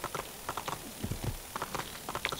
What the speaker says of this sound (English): Nice, fast horse.